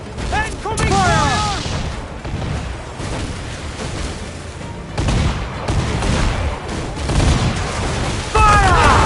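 Loud, rolling cannon fire from a naval battle in Assassin's Creed Black Flag, with heavy booms overlapping in a near-continuous barrage, mixed with shouted crew voices.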